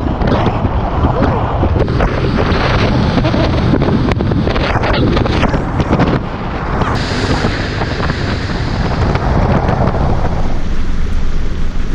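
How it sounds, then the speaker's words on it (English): A loud white motorboat roars continuously on the ocean with heavy wind buffeting the microphone and water rushing, a dense unbroken noise throughout. "In a big, white, loud boat."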